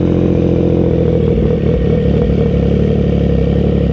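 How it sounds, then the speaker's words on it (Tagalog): A CFMOTO 675NK motorcycle with an aftermarket full system exhaust idles close by, steady and loud, with a low, even throb and slight clattering pulses throughout, no voices. "Yan yung tunog ng idle niya mga men."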